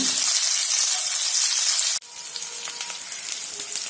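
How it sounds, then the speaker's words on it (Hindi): Green cauliflower fries in a pan with a bright, hissing sizzle that cuts off abruptly midway, leaving a quieter crackle with scattered pops. "अच्छी तरह से इसको फ्राई करके लेंगे।"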